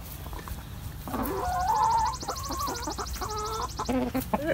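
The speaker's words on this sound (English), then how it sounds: "There's a big red rooster." A big red rooster clucks in a farmyard with chickens nearby, a run of close, moderately loud clucks and calls against steady outdoor background noise.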